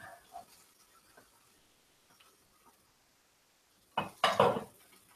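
Cooking pan being moved on a home stove: a quiet lull with faint ticks, then a short burst of metallic clatter and scraping near the end, close by.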